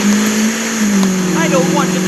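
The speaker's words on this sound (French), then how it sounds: "on entend déjà un petit peu le bruit du moteur" A taxi car engine in the video game Taxi Sim 2022 drones steadily with a low, even hum, while a voice talks over it.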